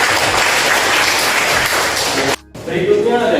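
A classroom of students claps together in a dense burst of applause that cuts off abruptly, followed by a short gap and a brief resumption of clapping and chatter.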